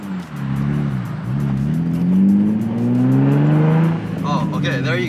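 An Infiniti G35 makes repeated U-turns trying to break traction, its engine revving and rising in pitch as it accelerates, close and loud, with a brief tire squeal near the end.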